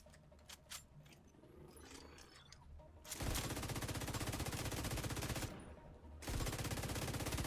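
A sustained burst of rapid automatic gunfire in The Division 2 rattles on for about three seconds. It stops briefly, then a second long burst follows, both loud and up close.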